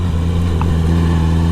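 A Honda CBR650R motorcycle fitted with an Akrapovic exhaust runs with a loud, steady, close-up rumble, its low engine note held evenly throughout without obvious surges.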